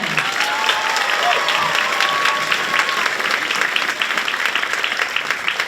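Audience applause fills a high school spring band concert, loud continuous clapping with some cheering voices mixed in, spread across a large room.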